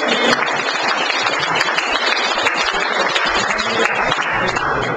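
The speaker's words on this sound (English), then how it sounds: "Give this guy a round of applause." Dense crowd applause, steady and fairly loud throughout, with many hands clapping together and a few faint voices mixed in.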